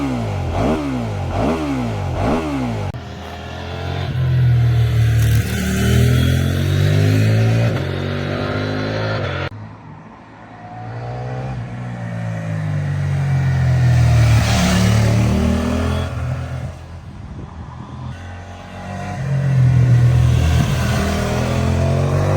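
A CFMOTO 800 MT-X motorcycle engine, a Euro 5+ model, cranks and starts, then revs repeatedly, its note rising and falling loud and close with brief idling dips between the revs.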